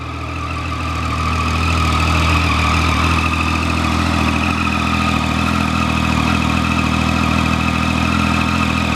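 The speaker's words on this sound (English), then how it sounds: "the standard exhaust note on a 675 is one of the best sounding standard exhausts you'll ever hear" Triumph 675 motorcycle with its standard exhaust, engine idling steadily with a smooth, even drone that rises slightly at the start and then holds close and loud.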